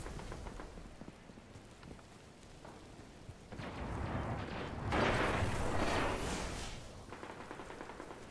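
Nova Bomb super exploding in a Destiny Crucible match, a swelling rumbling blast that builds mid-way and slowly fades over ongoing game noise, with no voices.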